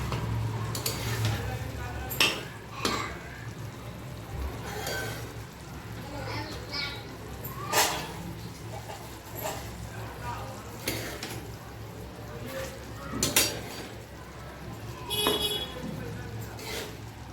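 Sliced boiled eggs and chopped coriander are stir-fried in masala on a tawa; a soft continuous sizzle sits under repeated scraping and clinking spatula strokes, with several sharper knocks spaced through it.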